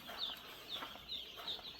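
Young chickens inside a heated poultry shed give faint, high, repeated peeping calls at a roughly even pace, heard from close by over a quiet background hiss.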